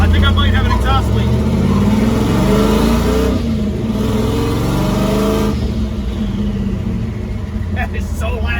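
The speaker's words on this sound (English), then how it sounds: "I think I might have an exhaust leak." An old truck engine with an exhaust leak roars and revs loudly and continuously, its throaty rumble rising and falling with a rough, raspy edge throughout.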